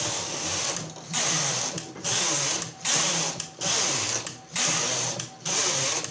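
A punch card knitting machine knits rows with loud whirring, rattling carriage passes, each sweep lasting about a second with brief pauses between, repeated evenly up close with no talking.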